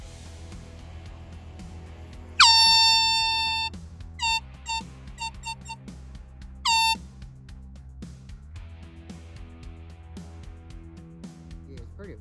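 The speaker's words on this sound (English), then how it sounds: "let's go back with the air horns" Truck-style air horns blast close and loud: one long sustained honk, then a series of short quick toots and a final brief blast, over low background noise.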